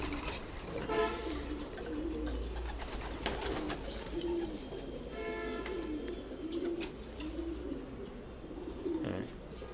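Racing pigeons in a breeder's loft coo in soft, repeated low calls, with chirps and bird chatter mixed in steadily close by.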